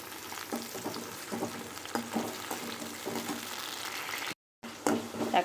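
Onions and tomatoes for a mushroom fry sizzle in a pan as they are stirred, making a soft continuous crackle with light scraping taps, close but moderate in level, with a brief cut to silence near the end.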